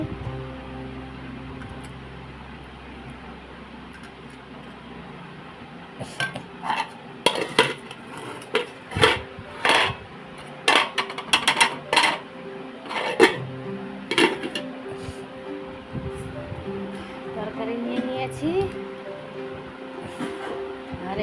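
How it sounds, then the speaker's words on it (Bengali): Curry being served into a bowl in a home kitchen: quiet at first, then a run of sharp ceramic and metal clinks and scrapes from a ladle against dishes, irregular and close, with a low background hum. "এই যে বাটিতে আমি তরকারি তুলে নিচ্ছি"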